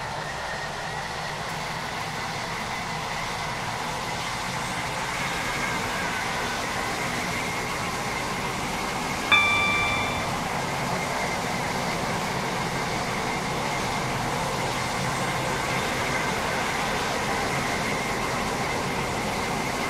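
Class 195/0 train running in the Roblox SCR game, a steady rumbling drone with a faint rail hum held throughout and a brief chime partway through, with no talk.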